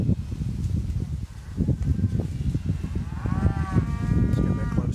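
Cattle low and moo close by, with a drawn-out call near the end over a steady rustling, munching background.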